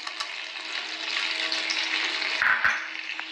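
Whole spices, dried red chillies, cinnamon, black and green cardamom and cloves, frying in hot oil, a soft steady sizzle with a faint low hum beneath and a couple of brief stirring clinks near the end.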